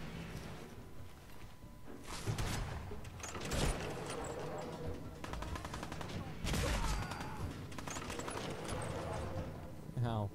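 In Fallout 4, an enemy keeps firing guns over a steady wash of noise. Several sharp shots crack close, with bursts near the start, in the middle and again near the end, and a man can be heard speaking under the gunfire.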